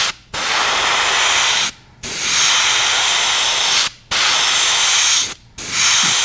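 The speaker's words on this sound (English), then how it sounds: "Let's take just a little bit of this detail moss green while we still have some in the airbrush" An airbrush sprays moss green paint onto a fishing lure in several sustained hissing bursts of a second or two each, separated by brief silent pauses, loud and close.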